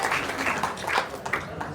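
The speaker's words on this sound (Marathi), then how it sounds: "त्यासाठी जोरदार एकदा आपण नैनीसाठी टाळ्या वाजूया" Audience applause at a religious discourse in Solapur, a steady, fairly loud patter of many hands clapping together with slight swells, continuing without speech.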